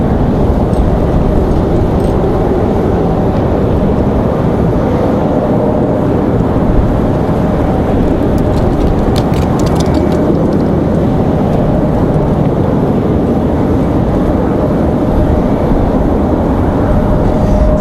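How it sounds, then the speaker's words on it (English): Airliners, including a United A319 and a Delta jet, taxi toward the runway end at Raleigh-Durham airport on a windy day. A loud, unbroken engine roar mixes with wind rumble throughout. "We've got United and an A319 heading out toward the end of the runway here."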